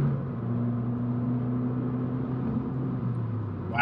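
A Fiat Abarth 500 fitted with a Racechip GTS tuning module accelerates, its engine a steady low drone heard from inside the car, rising slightly toward a brief louder moment at the end.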